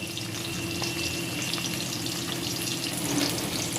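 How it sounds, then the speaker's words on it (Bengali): Constant close sizzling and spattering of fish frying in hot oil over medium heat, steady and moderately quiet, with no talking. "এখন আমি মাছগুলো ভেজে নেব"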